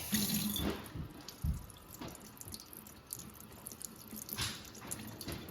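Tap water runs and splashes into a kitchen sink as razor clams are rinsed and cleaned, a close, continuous rush broken by irregular splatters and drips as hands move the shellfish under the stream.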